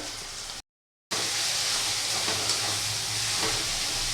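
Mutton curry sizzling steadily in a pan with turmeric and salt as it is sautéed in oil, a dense continuous hiss broken by one brief silent gap near the start.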